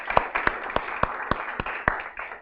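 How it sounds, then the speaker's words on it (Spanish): Scattered hand claps from a church congregation during a Spanish-language service, roughly eight sharp separate claps at an uneven pace over a steady room murmur, sparse rather than a full ovation. "Alguien le quiera un aplauso a Jesús."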